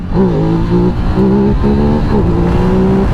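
A 2024 Ducati Desert X motorcycle engine revs hard during a wheelie, loud and close, its tone rising and holding in several throttle pulls as the revs climb, drop slightly and climb again.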